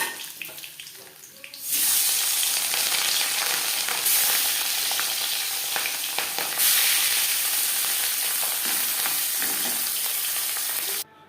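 Onions are dropped into hot oil left over from frying katla fish and sizzle loudly at once, a bright, crackling fry that holds steady after a quieter start.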